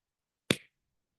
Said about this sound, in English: You hear the clap.